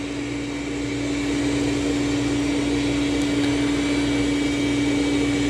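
A Dreame L10S robot vacuum runs at its highest turbo suction setting, giving a close, steady droning whir with a constant hum. No voices are heard over the machine.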